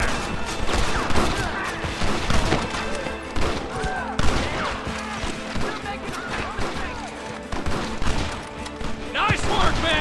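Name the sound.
covering gunfire in Red Dead Redemption video game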